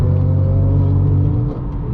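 A straight-piped BMW M4 GTS holding a deep, loud droning rev at close range, then easing off near the end, the exhaust sound standing alone without voices.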